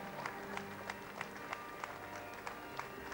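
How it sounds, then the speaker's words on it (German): Crowd on Cologne's Domplatz applauding Willy Millowitsch's funeral procession, steady distant clapping with faint recurring sharper claps, spread across an open square, without clear talk. "Und es ist der Applaus der Kölner hier auf dem Domplatz, der Willy Millowitsch begleitet auf seiner letzten Reise durch die Stadt"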